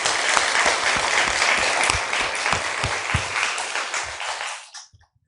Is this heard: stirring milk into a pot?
no